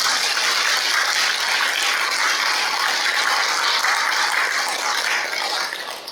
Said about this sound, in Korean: 이럴 때 박수 한번 쳐야 돼요.